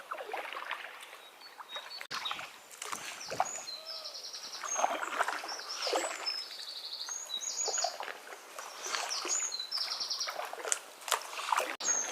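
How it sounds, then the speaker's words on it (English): A two-person kayak is paddled along the Chichester Canal in the UK, with soft water swishes and drips from the paddle strokes, close and quiet, under steady birdsong. "I'm going to paddle up to the bridge up here, spin around, and then moor up"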